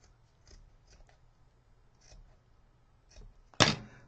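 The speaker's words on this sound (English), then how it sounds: "So all you have to do to even that out is just trim them" Scissors snip once, sharp and close, trimming the uneven ends of a twine tassel after a few seconds of soft rustling handling sounds.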